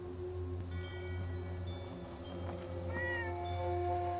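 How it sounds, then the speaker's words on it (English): A friendly cat in the Fallout 76 video game gives a short meow near the end, riding over a steady low ambient hum with a faint tonal drone in the background. "And a friendly cat."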